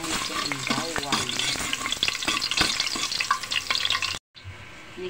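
Garlic fries in a hot pan with loud, crackling sizzle and busy stirring up close, then the sound cuts out abruptly just before the end.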